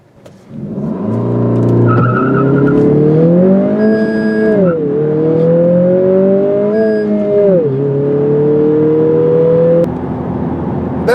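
A 2020 Honda Civic Si with a six-speed manual launches from a stop, its engine roaring close and loud, rising in pitch through each gear with drops at the shifts and a short tire chirp at the start.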